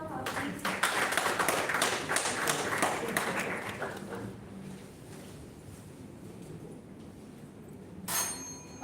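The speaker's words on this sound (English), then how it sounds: "Great round of applause for her, please." Audience applause for a contestant at a national-level oratory contest, a burst of clapping that fills the first few seconds, then thins and fades into a quiet room before a brief sharp noise near the end.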